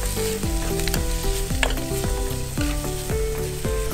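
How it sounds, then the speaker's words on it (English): Onions frying in a pan for a Kerala-style dry roasted chicken, a steady close sizzle that runs the whole time alongside music with repeating low notes, with no talking. "So let it fry till the onions turn golden brown."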